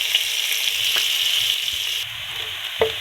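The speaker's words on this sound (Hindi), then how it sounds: "प्याज को हमने सौते कर लिया, इसे ब्राउन नहीं करना है।" Chopped onion sautés in half a cup of oil in a pan, giving a bright continuous sizzle with a few light taps of a spoon.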